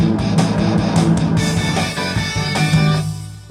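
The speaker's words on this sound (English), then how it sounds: "we're going to add a big thunderous bit to go with the drums" Big thunderous drum hits land inside a dense, loud orchestral cartoon score mix for Horrid Henry, with heavy booming accents near the end over sustained full-band music.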